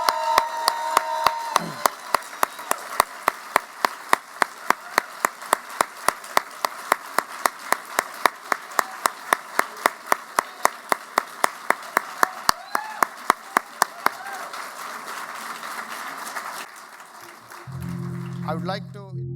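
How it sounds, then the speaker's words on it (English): A small group applauds semi-final winners at a performance event in Washington DC, with steady, evenly spaced claps close by, continuing for most of the stretch before fading out into a low hum. "Let's give them a huge round of applause."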